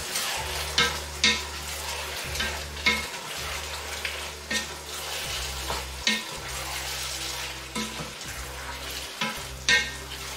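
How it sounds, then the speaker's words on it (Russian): Potatoes and meat stew in a pan with port wine added, bubbling and sizzling steadily. A spoon stirs and scrapes against the pan in regular strokes, with no voices. "Тушим где-то около 3 минут."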